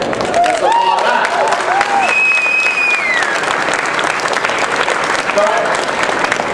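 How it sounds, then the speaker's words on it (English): A conference audience at the World AIDS Conference in Mexico City breaks into applause, loud sustained clapping with some cheering and whistles rising over it, filling the hall throughout. "Let's applaud that."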